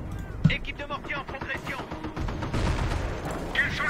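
MG42 machine gun and sniper fire in the World War II strategy game Company of Heroes crackle in uneven bursts and booms, mixed with other battle noise while someone talks over it.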